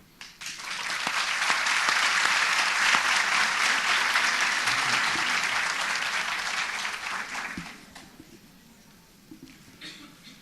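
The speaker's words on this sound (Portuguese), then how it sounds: "Na verdade, Nancy, eu, junto com todos aqui, te aplaudimos" An audience at a science and public-policy talk claps after the speaker finishes, a dense burst of applause that swells quickly, holds for several seconds, then thins to scattered claps.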